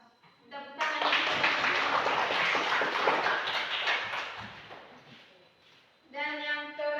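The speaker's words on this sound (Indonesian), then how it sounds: "Tepuk tangan." Classroom audience clapping hands after a student group presentation, a dense burst of applause lasting about five seconds that fades out, with voices speaking briefly before and after.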